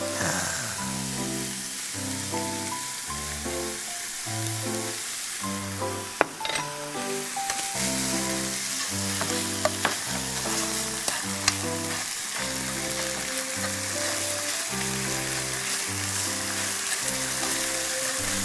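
Beef stir-frying in a pan as seasoning sauce goes in, a steady loud sizzle with occasional clinks of a utensil, over continuous background music.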